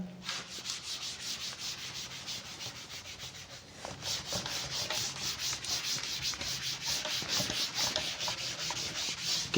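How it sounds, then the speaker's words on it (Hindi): A blackboard being erased by rubbing during a class, a continuous scratchy, swishing friction sound in rhythmic strokes that grows louder and more vigorous after a softer start. "चलिए बच्चों इसको रब कर देते हैं।"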